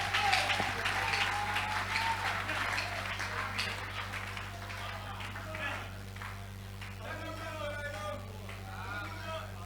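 A church congregation applauding during a sermon, a sustained dense patter of clapping hands filling the room, with voices and shouts mixed in throughout.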